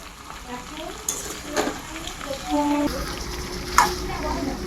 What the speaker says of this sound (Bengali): এবার আমরা কষিয়ে রাখা মশলাটা এতে অ্যাড করে দেবো